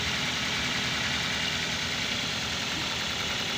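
A used car engine idles steadily up close, with a constant even rumble and no pauses or revving.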